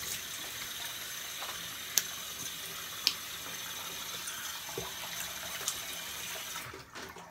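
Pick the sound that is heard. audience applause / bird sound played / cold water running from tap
cold water running from tap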